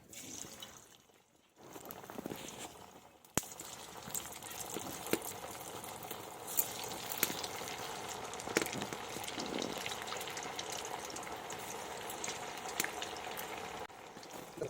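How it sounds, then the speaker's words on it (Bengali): Moong puli pithe, a Bengali lentil-filled dumpling, frying in hot oil with a steady broadband sizzle and bubbling that starts after a brief quiet moment, with occasional sharper crackles and spits throughout. "পুলি পিঠেগুলো কতগুলো বানানো হয়ে গেছে এখন ভেজে নেবো অল্প অল্প করে"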